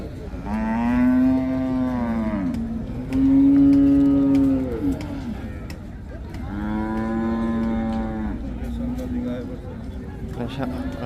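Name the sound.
cow mooing at a cattle market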